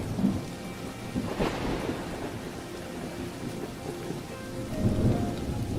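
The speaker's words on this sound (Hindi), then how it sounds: "तभी बारिश शुरू हो जाती है।" In an animated cartoon, rain patters steadily on surfaces while thunder rumbles, with a sharp crack early on and low rolling rumbles near the end.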